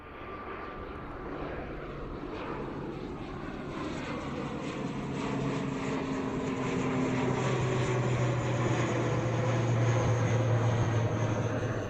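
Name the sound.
Aer Lingus ATR 72-600 turboprop plane taking off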